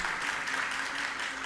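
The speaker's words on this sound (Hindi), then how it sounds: "एक बार इस बच्ची के लिए जोरदार ताली हो जाए" An audience applauds a girl at a Jain religious gathering with Muni Shri Praman Sagar, producing dense, sustained clapping from many hands that fills the hall evenly throughout.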